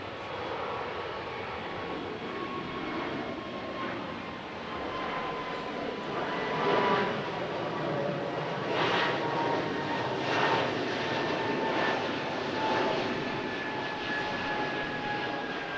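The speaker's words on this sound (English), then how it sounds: "another aircraft that is very much in service, the Embraer E190-E2" Embraer E190-E2 regional jet flying past at an airshow, a steady broad engine roar at moderate distance with swelling surges and a faint whine running through it.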